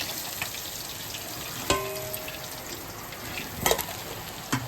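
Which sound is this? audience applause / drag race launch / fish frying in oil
fish frying in oil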